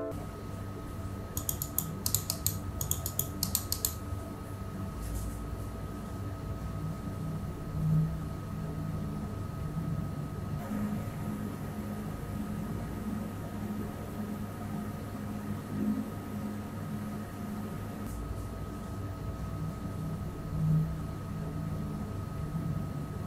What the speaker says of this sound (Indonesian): Dan ini adalah suara yang dihasilkan dari 5 fan yang ada di PC ini.